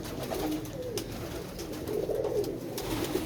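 Pigeon cooing, close and soft, as a captured grey-eyed pigeon is held in hand; low murmuring coos roll on steadily for several seconds over a faint background hum.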